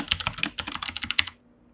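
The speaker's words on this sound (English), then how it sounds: "For my keyboard, I use a Logitech Mechanical Mini. I like this because it's the smallest form factor I can find for a mechanical keyboard, and I like the way it sounds." Rapid keystrokes on a Logitech Mechanical Mini, a compact mechanical keyboard, about a dozen crisp clicks in quick irregular rhythm, close and alone, stopping abruptly.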